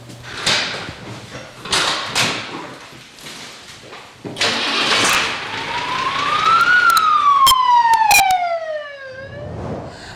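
A fire engine's engine turns over and pulls away, its siren rising into a long wail that sweeps up and then slides down. Thumps and clatter come before it, with no talk.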